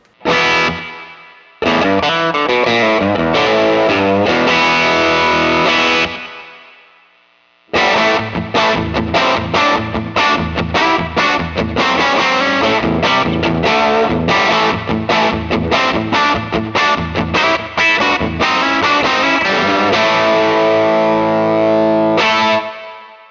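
Electric guitar played through a Universal Audio reverb pedal with added distortion: loud, saturated chords and strummed runs with a long washing tail, a brief pause early, then continuous dense playing.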